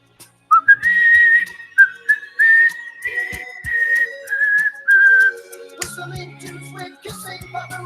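Someone whistles a tune by the seaside dunes, a clear, steady melody of held and sliding notes, then a short stretch of quieter, broken sounds toward the end.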